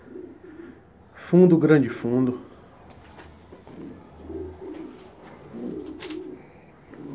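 Homing pigeons in a loft give soft, low cooing calls in several short bursts, close by, while someone talks briefly over them.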